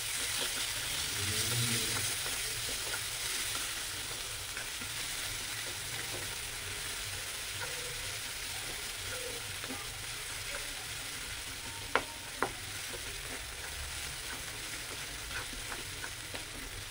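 Chopped onion fries with cumin and dried red chili in a pan for fish chop, making a soft, steady sizzle that carries on throughout, broken by a couple of brief clicks from stirring.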